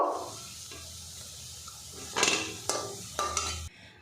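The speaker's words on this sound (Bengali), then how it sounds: "বাকি বড়াগুলো আমি এইভাবে ভেজে নেব।" Lentil fritters (bora) fry gently in oil with a soft continuous sizzle, broken by a few sharp scrapes and clinks of a utensil against the pan near the end.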